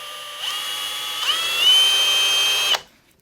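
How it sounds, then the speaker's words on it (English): A Milwaukee cordless drill bores a hole through the housing of a Milwaukee M18 string trimmer, its motor whine rising in steps as it speeds up, then cutting off abruptly; close and loud, with no talking. "can a Milwaukee drill a hole in another Milwaukee?"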